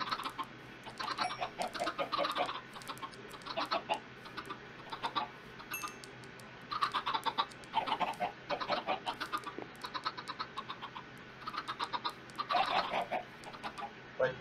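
Chickens cluck in Minecraft, with repeated short bursts of clucking that come in clusters across the stretch, moderately loud and close, with no talk over them.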